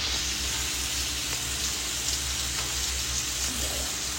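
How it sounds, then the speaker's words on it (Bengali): Tomato and onion fry with panch phoron spices and green chilli in a steady, moderate sizzle, continuous and close, over a low background hum, with no talking. "এখন এই যে লাল লাল করে ভাজা করছি"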